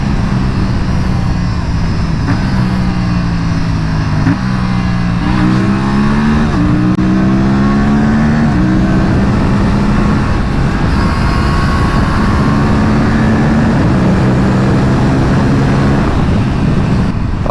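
An Aprilia RS 457 motorcycle accelerates on a ride, its engine loud and close, with rising pitch sweeps through repeated gear changes over steady wind roar.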